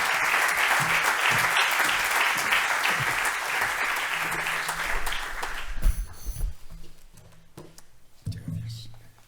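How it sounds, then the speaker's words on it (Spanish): Audience applause at an economics presentation event, sustained clapping from a crowd for about six seconds that then dies away into scattered claps, room noise and a few faint voices. "Un aplauso."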